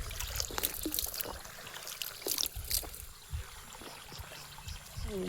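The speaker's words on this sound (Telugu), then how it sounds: "ఇది వాటర్ ఫ్లో చూసారు కదా, వాటర్ ఫ్లో," Water flows directly from a ground source on a farm, a faint, steady trickle with soft splashing and scattered small knocks.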